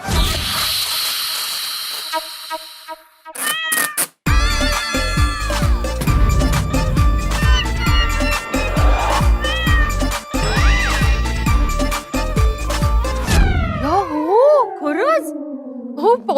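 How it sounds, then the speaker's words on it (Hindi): Cat meows and hisses ring out over busy music with dense tones, a few rising and falling wails near the end, loud throughout. "मैंने बोला था ना कि बिल्ली की आवाज आ रही है"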